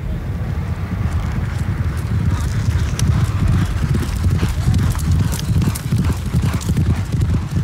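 Racehorse hooves clip-clopping steadily during training at an Irish racehorse breeding centre, a dense rhythmic pounding close and loud throughout, with wind-like rush and a faint voice underneath.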